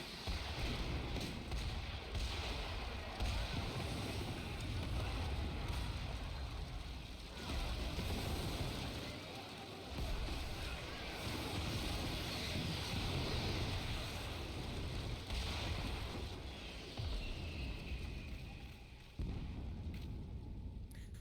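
Area bombardment in Final Fantasy XIV: a dense, continuous wash of rumbling explosions and booms that keeps a steady, loud level throughout, with no voices.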